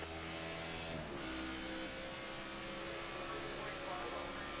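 Race car engine in the video game NASCAR '14, a steady sustained drone with a slight pitch shift partway through, loud and continuous throughout with no talking.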